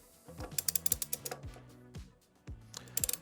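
Bolts on a Springer fork bracket of a custom chopper are snugged up with a ratchet wrench, giving quiet, close bursts of rapid clicking separated by short pauses.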